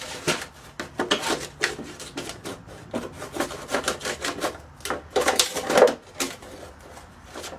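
Scissors or a blade cut around a plastic bottle used as a plant pot, producing irregular crinkly snips and scraping strokes close up, moderately loud, with no voices.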